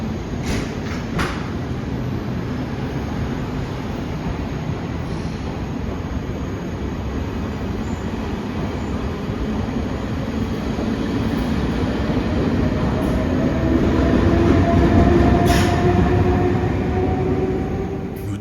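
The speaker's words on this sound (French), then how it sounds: "Nous sommes dans un train à destination de Bâle" Inside a double-deck Swiss passenger train travelling along Lake Thun toward Basel, a steady rumbling interior roar with faint rattles and clicks that slowly swells louder before easing off.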